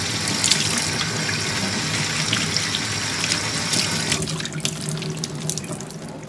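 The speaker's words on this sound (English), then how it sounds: "Go ahead and rinse that off in cool water," Cool tap water runs steadily into a kitchen sink, rinsing shrimp being prepared for a shrimp and spinach pasta, a continuous close splashing hiss with small shifts in spatter and no talk.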